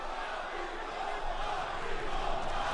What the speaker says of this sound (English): And now the crowd yelling, Papito,